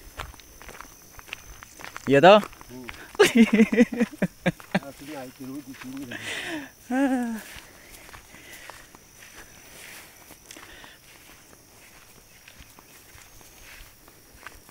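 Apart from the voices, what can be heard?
footsteps walking along a path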